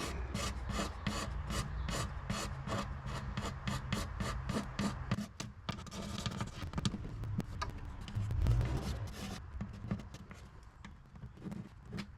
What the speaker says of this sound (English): I'll give it a quick sand with some fine grit or steel wool